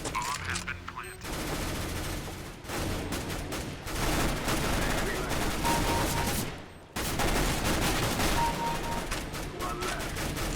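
PP-Bizon gunfire in Counter-Strike: Global Offensive, sustained rapid automatic bursts at close range, with two brief gaps where shooting stops before resuming.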